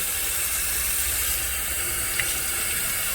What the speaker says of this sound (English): then you rinse the filter